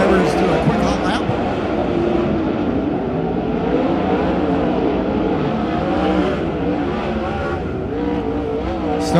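410 sprint cars take a hot lap on a dirt track, a continuous, loud roar of racing engines filling the whole stretch while an announcer talks over it.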